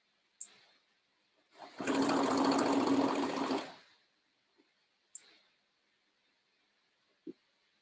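Sewing machine stitching the shoulder seam of a boy's dress shirt, one sustained burst of about two seconds in quiet surroundings, framed by a few sharp clicks from handling before and after.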